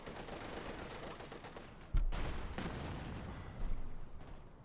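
Soviet infantry submachine gun fire in a Company of Heroes 2 battle, rapid bursts crackling over a dense wartime din, with a heavy close impact partway through and further gunfire swelling afterward.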